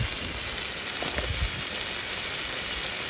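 Onion frying in a pot for Guyanese curry, a steady close sizzle and hiss of oil with faint stirring taps, even and continuous.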